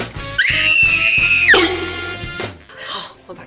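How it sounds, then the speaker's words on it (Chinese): A shrill, high-pitched scream sound effect rings out for about a second over low rhythmic thumps, then drops away into quieter background sounds. "此处应该有那种尖叫声"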